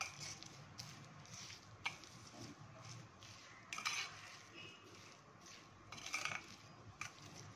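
A spoon scrapes and clinks against a pot while salt, sugar and coriander are stirred into raw mango dal, with soft, irregular clatter repeating close by and no voices.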